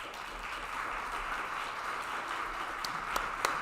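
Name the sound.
applause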